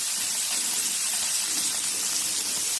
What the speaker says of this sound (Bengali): তেলকে ভাজবো, এই যে ভেজে নিচ্ছি আগে কই মাছটা